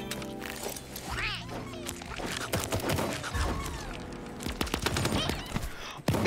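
Gunshots from a shotgun in Super Animal Royale, a cartoon battle-royale video game, ring out as several sharp bursts scattered through busy game music and effects, with a player talking over them.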